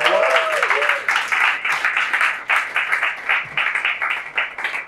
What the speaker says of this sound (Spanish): O sea que un fuerte aplauso para Emilio, por favor.